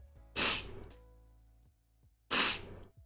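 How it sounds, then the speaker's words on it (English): Two sharp, loud sneezes burst out about two seconds apart, each a quick explosive spray of breath from a single person nearby, with quiet room tone between them. "I sneeze so often on stream"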